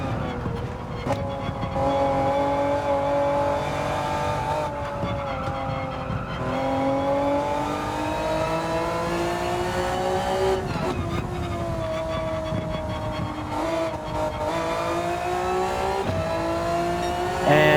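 A race car in the video game Gran Turismo 7 drones steadily under a loud engine whose pitch climbs and falls through gear changes, with tyre noise, continuous and close for the whole stretch.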